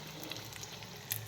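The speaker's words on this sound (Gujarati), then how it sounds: "ગોલ્ડન બ્રાઉન કલર થાય ત્યાં સુધી તળવાના" Mini samosas frying in hot oil in a home kitchen, a faint continuous sizzle with a few brief crackles, heard alone without talk.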